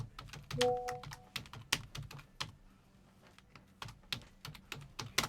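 Typing on a computer keyboard, irregular close clicks and key thunks in short bursts with brief pauses, in a quiet room.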